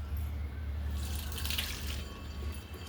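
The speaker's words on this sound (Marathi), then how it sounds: "पूर्ण पाणी चाळणीतून निथळून काढू।" Water from cooked, softened lentils pours steadily through a kitchen sieve, a continuous close splashing trickle heard alone without any talk.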